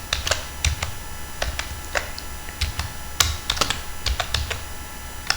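Code being typed for an I2C routine on an ARM Cortex-M4 lesson: a computer keyboard clatters with quick, irregular key presses, some in rapid bursts, close and clear over a steady low room hum, with no talking.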